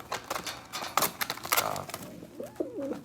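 Recessive opal spread pigeons coo in a loft, a soft rolling coo near the end following a stretch of scratchy, clattering movement and pecking noises close by.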